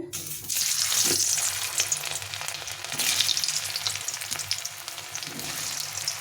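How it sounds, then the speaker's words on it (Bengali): Potatoes fry in hot oil over a medium to low flame, producing a loud, crackling sizzle that swells and eases in waves, with scraping stirs mixed in and no talking. "তো এখন আমি আলুগুলো ভেজে নেব তেলটা গরম হয়ে গেছে"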